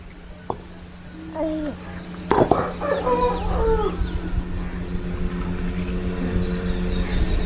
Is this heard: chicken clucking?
yes